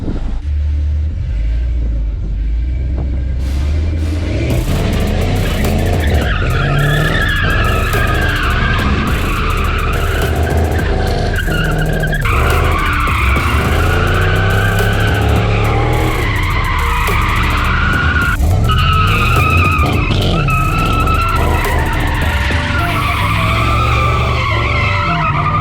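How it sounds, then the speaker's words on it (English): A Pontiac G8 drifting, tires skidding and squealing in long wavering howls over a steady engine roar and rumble, close and loud throughout with no talk. "let's see if Pontiac can drift"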